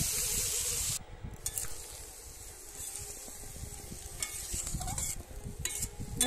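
Spice masala being stir-fried with mustard paste in a Bengali village-style kutli dish, a steady close sizzle with spoon scrapes against the pan, briefly dipping after the first second, with no talking.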